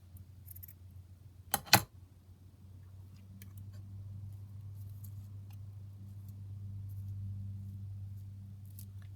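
Scissors make two quick close snips through paper while trimming a piece for a junk journal craft, followed by a low steady background hum.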